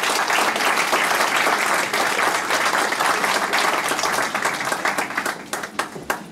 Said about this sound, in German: Dafür bitte nochmal einen Applaus.